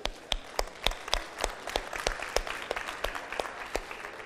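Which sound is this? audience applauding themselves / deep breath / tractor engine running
audience applauding themselves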